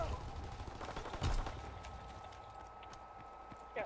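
Gunfire in Call of Duty: WWII multiplayer, scattered shots with one louder burst near the middle, heard faintly beneath a steady hum and occasional background chatter.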